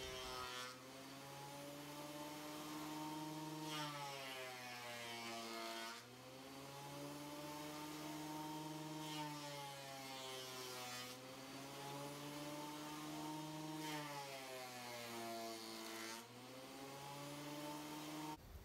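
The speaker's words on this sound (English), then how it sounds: "I could run that through the planer a couple times and get it all nice and flat" A planer flattens the bottom of a chestnut wood box with a loud, sustained machine whine that dips in pitch as the board feeds through, running alone for the whole stretch.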